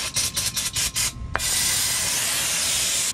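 Spilled brake cleaner wiped from a Holley Sniper EFI linkage on an F100 engine, heard as a quick series of close rubbing strokes followed by a sustained hissing rush.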